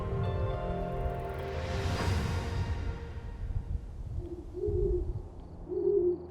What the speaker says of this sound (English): With the onset of dusk, the canyon echoes with the calls of the great horned owl